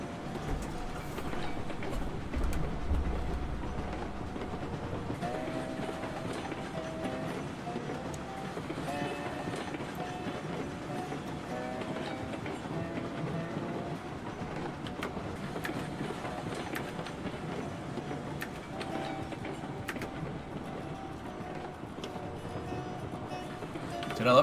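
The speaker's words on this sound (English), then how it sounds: "When you're at the back of a train and all you hear is just the clickety-clack, you don't even hear the locomotive." Train wagons clatter along the track in the online railroad game Railroads Online, a steady, fairly quiet rhythmic clickety-clack heard from the back of the train with no locomotive noise, while people talk over it.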